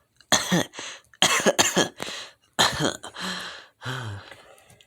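A voice imitates coughing: a series of harsh, throaty coughs in short bursts, close up, ending with a strained, groaning cough.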